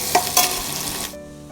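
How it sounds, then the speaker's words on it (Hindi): Potatoes go into a pan of already fried onions in a village kitchen, sizzling loudly with a couple of stirring scrapes, then the frying noise cuts off, leaving a low background hum. "यहाँ पर आलू को भूनेंगे डाल करके। अभी प्याज मेरा भून चुका है, तो अभी मैं आलू डाल दूँगी।"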